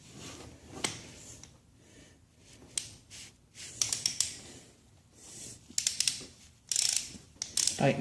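Ratchet tool tightening a bolt during an oil change on a 1986 Honda VF700C Magna motorcycle: irregular bursts of quick clicking and metallic ratcheting with short pauses between, close and moderately loud, no talking.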